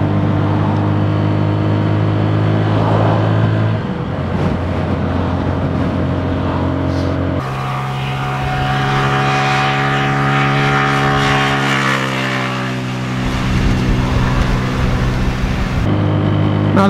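Brand-new, still-tight engine of a Neco NC-N01 125 motorcycle being ridden gently, a steady loud droning hum whose harmonics shift as it changes pitch through gear changes, with wind rush over the microphone throughout.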